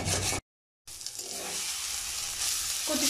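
Taro leaves cooked with a hilsa fish head sizzle in a pan while being stirred, a close steady frying hiss broken by a brief silent gap near the start, with faint scraping toward the end.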